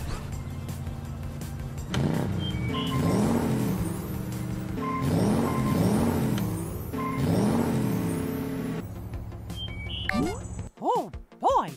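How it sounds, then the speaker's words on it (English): A cartoon car starts up and drives off, with a revving motor that rises and falls in repeated engine surges. Bright cartoon sound effects and short voice-like squeals come near the end. "Let's get your car started!"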